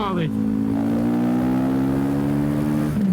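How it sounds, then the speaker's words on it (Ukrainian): A 2025 Kovi 450i Pro motard exhaust revs loudly, its steady drone rising and holding in pitch, with a voice speaking briefly at the start. "Ви чули, як цей вихлоп"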